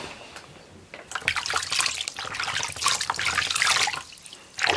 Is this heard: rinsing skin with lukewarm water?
yes